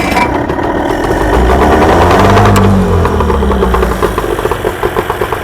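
A small fishing boat's outboard engine catching after a pull start, roaring up loudly close by, then settling into a rough, knocking idle with rhythmic pulses toward the end.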